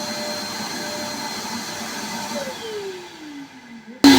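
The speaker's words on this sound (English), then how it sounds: "This vacuum cleaner has different nozzles." A vacuum cleaner with a nozzle attachment drones steadily and loudly on a home carpet, its pitch sliding downward near the end before a sudden louder burst of noise.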